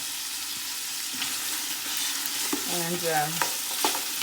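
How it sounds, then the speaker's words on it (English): Sausage browns in a soup pot with a steady, close sizzle and crackle, while a voice briefly says a word near the end. "we're just gonna wait a few minutes while the sausage browns"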